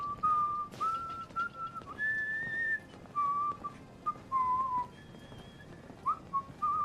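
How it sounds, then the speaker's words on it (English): A character in the video game Fallout 4 whistles a wandering tune alone, a clear lilting melody of short and held notes with brief pauses between phrases. "How dare you whistle that, sir?"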